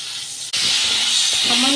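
Water poured onto spice paste frying with chili, salt and turmeric bursts into a loud, steady hiss of sizzling steam that starts abruptly and keeps going.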